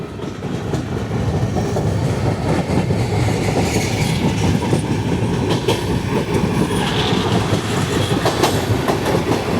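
Hazur Sahib Nanded Hadapsar Express rolling over the Purna River gives a continuous loud rumble with rhythmic clickety-clack and faint wheel squeals, close and steady throughout with no talk.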